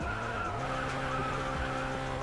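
A Ferrari drifts in the mobile racing game Racing Master, with a steady tire skid and squeal over a droning engine that runs unbroken and fairly loud for the whole stretch, with no speech.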